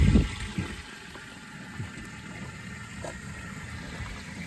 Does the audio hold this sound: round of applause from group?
no